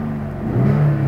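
Short burst of a 2012 Porsche Panamera V6 revving, the engine note climbing and holding loud and close for about a second.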